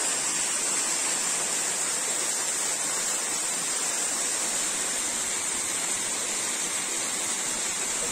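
A steady, loud rush of falling water from a mountain stream pouring over rocks in the Uch-Kosh gorge near Yalta, continuous and unbroken with no voices.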